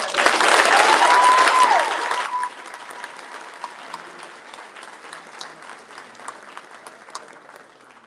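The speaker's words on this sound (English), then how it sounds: "One more round of applause." Audience applause at a 3D Cavalry Regiment Sister-N-Arms quarterly gathering, loud and dense for about two seconds before dropping sharply to a thinner trickle of scattered claps that fades out.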